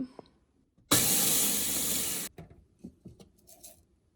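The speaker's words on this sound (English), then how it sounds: "now I've poured both trays into my Ninja blender here, and then we just blend them up" A Ninja blender grinds dehydrated eggs in one loud, harsh whirring burst of just over a second that stops abruptly, followed by scattered light clinks and rustles.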